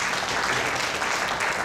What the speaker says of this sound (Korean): 큰 박수 한번 보내주시면 좋겠습니다